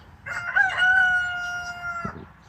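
A rooster crows once, a loud, close, drawn-out cock-a-doodle-doo held for over a second before trailing off, over faint background noise.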